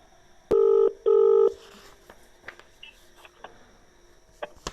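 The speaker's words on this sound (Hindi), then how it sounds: "मैं आपके सामने साहेब को फ़ोन लगा रहा हूँ।" A telephone dials out on a call, with two loud, distinct touch-tone beeps close together, then a few faint clicks and handling taps in a quiet room.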